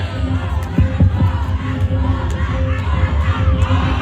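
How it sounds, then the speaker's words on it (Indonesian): A large crowd at an outdoor police election-security drill in Ciamis roars and cheers for the police negotiator team, with dense, loud, sustained shouting and a few sharp accents early on. "berikan tepuk tangan yang meriah"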